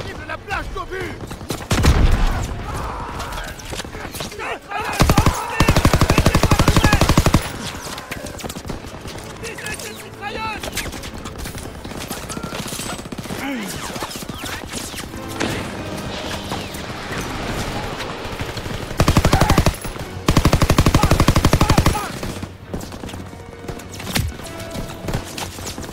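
Bursts of machine gun fire in the Call of Duty WWII video game, loud volleys recurring amid continuous battle noise, with voices talking over the action.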